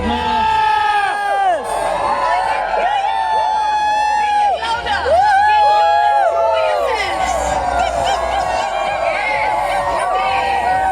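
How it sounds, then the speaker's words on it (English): A large stadium crowd at the closing ceremony of the 6th Meghalaya Games at Nongbah stadium cheers and whoops continuously, with a loud voice over a public-address system layered above the roar. "Give a round of applause. Please put your hands and cheer"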